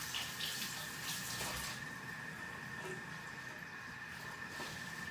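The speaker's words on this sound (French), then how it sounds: "Je le passe un coup sous l'eau parce qu'il y a des écailles." A salmon is rinsed under running tap water to clear off scales, making a steady rushing stream with faint splashing that lightens midway, close and continuous, with no talking.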